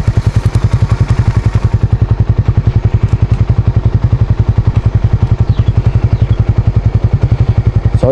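A motorcycle engine pulses loud and close with a rapid, even thumping beat while riding. It stays steady through most of the stretch, and a brief rev comes at the very end.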